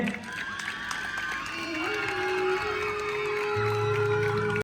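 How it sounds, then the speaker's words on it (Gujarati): An audience at a stage programme breaks into applause and cheering to welcome someone on stage, a steady wash of clapping and crowd noise with a few tonal sounds running through it. "તેઓને પણ તાળીઓના ગળગળાટથી આપણે વધાવી લઈએ."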